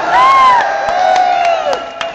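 A large concert crowd at the 2013 Everest Concert in Malaysia cheers loudly, with high whoops and whistles rising over a dense roar of voices and scattered claps.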